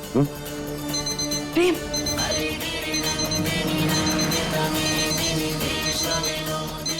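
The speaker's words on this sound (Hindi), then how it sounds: "ये आवाज हमारे फोन की है। ये हमारा अलार्म है" A phone alarm, set as a medicine reminder, rings with a repeating electronic tone while a person talks over it.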